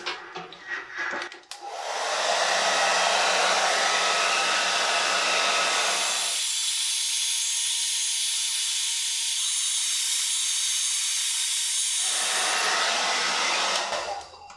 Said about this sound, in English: I want to blow the hair out to the sides as much as possible.